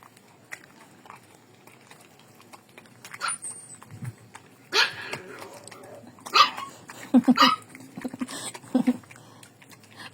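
Pet dogs getting treats at home, with a few excited yips and short barks scattered among scuffling and chewing noises, close by and fairly quiet, with some brief voice in the background.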